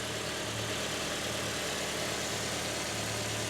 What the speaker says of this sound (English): fires right back up. Idling well.